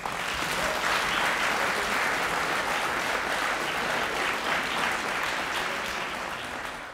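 A debate-competition audience at the Coupe de France de débat applauds the jurors, a dense, even roar of clapping that holds steady for several seconds, then eases slightly at the end, with no voices.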